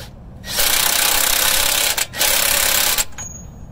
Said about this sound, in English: Putting the axle nut socket in. It helps if you have an impact.